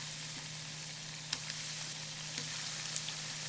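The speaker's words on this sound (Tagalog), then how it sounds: "Pirituhin natin yung meatloaf into low heat hanggang sa mag-golden brown nito" Meatloaf fries gently in oil over low heat, giving a steady soft sizzle with faint, sparse pops and crackles and no voices.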